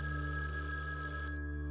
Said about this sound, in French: Puis le téléphone a sonné